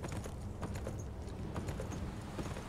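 Horse hooves clip-clop in a steady rhythmic walk in the video game Beyond Two Souls, moderately close and without talk.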